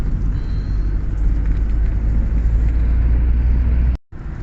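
A car crossing a new bridge gives a steady low road rumble and tyre roar from inside the cabin, continuous until a brief cutout near the end.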